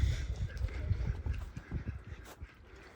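Green-headed ducks on a farm quack in a loose series of low, rough calls, fairly faint and close together.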